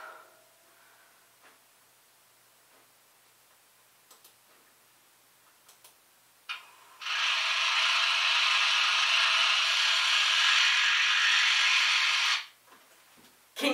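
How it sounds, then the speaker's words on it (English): A small jackhammer roars in a loud, continuous burst of harsh noise for several seconds, then cuts off, preceded by a few faint ticks and taps. "That was the sound of a small jackhammer."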